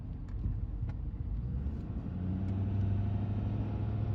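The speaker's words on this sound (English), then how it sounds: "It's most likely just a large truck, but it does sound like a bus." A large truck or bus engine in Chickasha, Oklahoma during severe weather, a steady low rumble heard from inside the vehicle, continuous and close, with the droning rising slightly after the midpoint and no talk.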